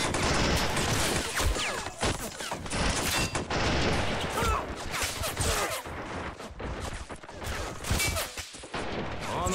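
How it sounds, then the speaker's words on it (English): Dense, continuous machine gun fire in the Army Men toy-soldier war game, rapid loud bursts overlapping with scattered gunshots and explosions throughout. "the Purples knew how to fight the Reds, so they have put up a lot of these machine guns to fight against the Reds with"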